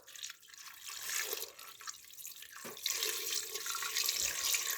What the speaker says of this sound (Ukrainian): Виливаємо водичка, звичайно, з криниці відстояна.